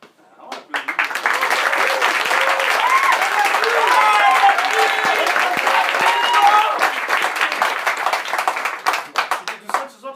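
Audience applause and clapping fill a Point Virgule theatre during an improv comedy show, steady and dense for most of the stretch before thinning into scattered claps, with some voices mixed in.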